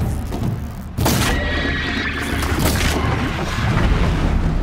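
Combat against a Strider machine in Horizon Zero Dawn, with a heavy boom at the start followed by repeated thuds and blasts over a loud, continuous wash of noise.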